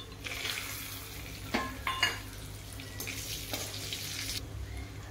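Cashews and raisins sizzle steadily in hot oil with coriander and asafoetida, a soft continuous frying hiss broken by a few brief clinks of a spoon against the pan.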